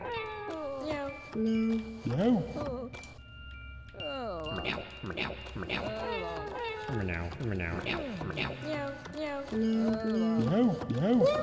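Many cartoonish cat meows from the Catie in MeowmeowLand video game repeat in quick succession, near and loud, overlapping one another with varied pitches and occasional caterwaul-like drawn-out cries.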